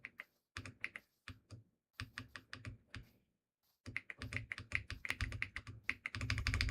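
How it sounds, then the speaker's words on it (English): Fingers tap away at a computer keyboard up close in quick bursts of crisp keystrokes separated by short pauses, building to a dense flurry at the end. "Is this W keyboard ASMR?"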